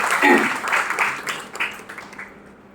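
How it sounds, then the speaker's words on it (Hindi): Applause from the audience at a book launch, a loud rush of clapping that peaks early and gradually fades away over a few seconds. "तो एक बार जोरदार तालियां मैं चाहूंगा सभी"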